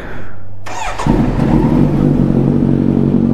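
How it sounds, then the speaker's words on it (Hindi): A Kawasaki Z900 motorcycle, already warm, is started: a brief starter whir catches into a loud, steady engine idle, very close and alone. "सबसे पहले इसका कोल्ड स्टार्ट"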